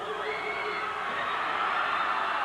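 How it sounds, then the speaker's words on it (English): Loud high school basketball crowd roaring in sustained cheers after a three-pointer at a 1991 Tennessee regional championship game, a dense steady wall of shouting and screaming with no breaks. "Al Mitchell with another 3. Makes it a 9-point lead, and the crowd erupts"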